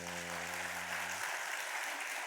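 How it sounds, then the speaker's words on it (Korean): Applause fills a Sunday church service, a dense, steady wash of clapping from the congregation that follows a low sustained tone cutting off just past one second. "마음 담아서 힘차게 박수."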